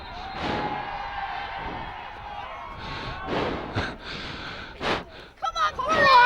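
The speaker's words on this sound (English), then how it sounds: "The crowd reacting there to referee calling over one of the substitutes" Spectators at a junior county Gaelic football final react to the referee, breaking into scattered murmurs, shouts and rising bursts of noise around the ground, with a commentator talking over them.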